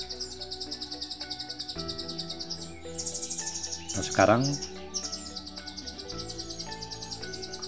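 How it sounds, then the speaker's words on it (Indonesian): An orange-headed thrush sings in rapid repeated chirps and whistled phrases close by, while a brief burst of other calls answers from across the road. Someone says a few words partway through. "sudah ada respon sedikit dengan suara cuitan yang di seberang jalan."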